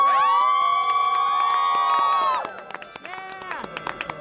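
Crowd at a 2021 university commencement cheering for graduates, with loud sustained whoops and high shouts that break into scattered calls and claps; voices shout over one another throughout.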